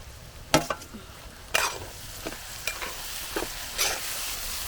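Sliced onion and tomato fry in a pan for a country-style chicken curry, under a steady low sizzle broken by several distinct scraping stirs of a spatula, close and fairly quiet, no speech.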